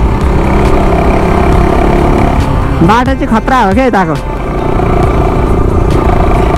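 A motorcycle ridden along a road gives a steady engine and wind rumble that runs unbroken from start to end. Someone talks briefly over it midway.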